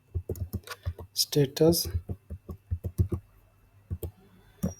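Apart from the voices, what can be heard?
typing a command on a computer keyboard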